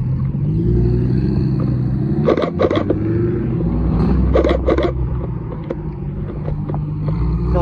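Supercars such as a Revuelto, 599 GTO, SVJ and Murcielago leaving a car show, a steady loud engine rumble with brief sharp bursts of revving, heard outdoors from the roadside.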